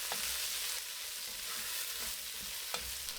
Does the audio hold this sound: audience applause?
no